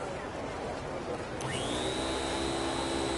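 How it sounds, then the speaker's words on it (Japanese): A robot vacuum cleaner in the video game Like a Dragon: Infinite Wealth drones with a steady motor hiss, then a rising electronic whine cuts in and holds as a sustained tone. "毎度毎度骨の折れる掃除機だぜ"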